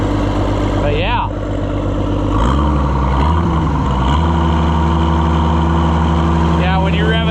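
An Oliver 77 tractor engine runs loud and close, its rumbling idle revving up and then settling into a steady heavier drone, while someone talks over it.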